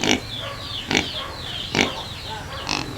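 Two hungry farm pigs give four evenly spaced, loud squealing oinks close by, each a sharp nasal burst followed by a brief pause, with no talking.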